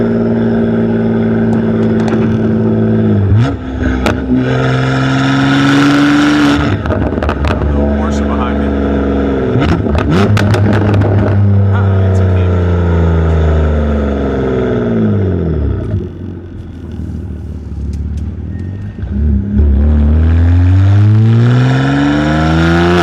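Exhaust of a BMW G80 M3 with the valves open, loud and close as it revs up and drops repeatedly with sharp pops between pulls, while someone talks over it.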